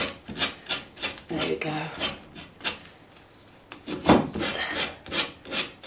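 Mouse detail sander fitted with a very coarse sandpaper corner pad scraping on painted wood, uneven rasping strokes of moderate loudness with pulsing bursts, and a voice briefly speaking.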